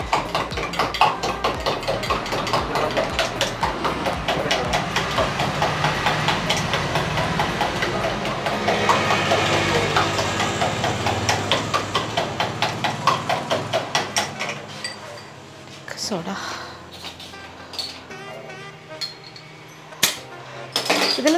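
Electric mixer grinder blending kiwi soda with a whole squeezed kiwi at a sarbath stall, a loud steady motor whir that runs continuously before cutting out near the end, followed by clinks and knocks.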